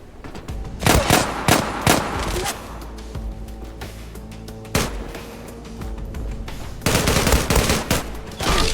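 Gunfire from the Zula online shooter crackles in repeated loud bursts, with rapid automatic fire, single shots and a heavy blast between shorter pauses.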